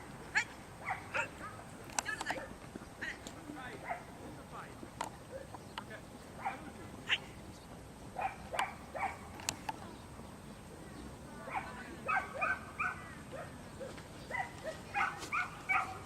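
A dog at herding training gives short yips and whimpering barks in scattered bursts, fairly faint and distant against a quiet outdoor background.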